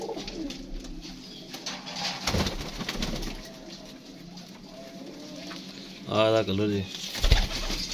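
Pigeons at a breeder's rooftop loft in Faisalabad give a short burst of throaty cooing near the end, close by, with someone talking over the soft background hum.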